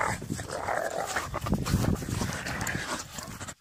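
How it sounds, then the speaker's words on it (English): Puppies pant and whimper up close, a busy, continuous jumble of breathy huffs and small whines that cuts off abruptly. "Puppies."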